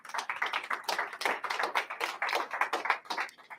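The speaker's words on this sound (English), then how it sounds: "Give her a round of applause." A small group at an investors' group meeting claps, a quick uneven patter of hand claps at a fairly steady level throughout.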